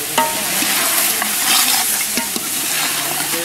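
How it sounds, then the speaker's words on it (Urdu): Mutton sizzles loudly in ghee with black pepper while being stirred, a close, continuous frying hiss broken by scraping clicks of the spoon against the pan. "ابھی یہ ناظرین کالی مرچ بھی ڈال دیا گھی بھی ڈال کر اس کو بھونیں گے"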